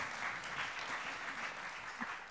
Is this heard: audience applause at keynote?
yes